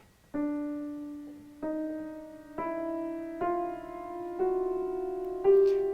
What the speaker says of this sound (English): a simple sonification, conceptual sonification of this protein